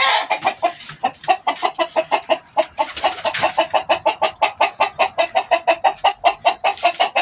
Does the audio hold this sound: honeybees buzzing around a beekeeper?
no